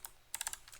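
A short burst of computer keyboard typing, a handful of crisp key clicks in a quick irregular cluster, close and quiet with no talking.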